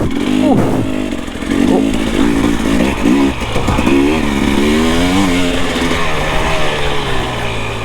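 Husqvarna TPI two-stroke motorcycle engine revving hard while ridden, close and loud, with throttle blips rising and falling, sharp bursts in the first few seconds, then a steadier high drone as the bike is pushed along.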